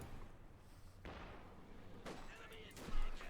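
Artillery shells land in Company of Heroes 2, a few heavy thuds and blasts spaced across the moment with battle noise underneath, while someone talks over the action.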